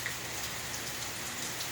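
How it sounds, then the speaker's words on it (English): Steady rain falling, a soft continuous hiss of drops pattering on a surface, even and unbroken throughout with no voices. "Today you get to listen to the sound of the rain, not even me."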